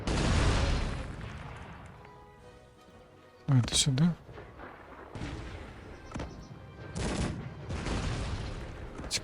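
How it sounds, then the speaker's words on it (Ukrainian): Gunfire and artillery blasts from the strategy game Cossacks 3 during a siege battle, with a loud close burst of shots amid continuous battle noise, while a person talks over it. "Хтось по нам ще стріляє."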